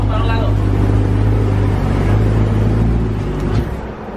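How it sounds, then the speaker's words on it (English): A BMW E92 M3 V8 held at a loud, deep, steady rev up close, with a few sharp exhaust pops and a dip as it settles near the end. "he's revving it and stuff, and there's like little pops here and there."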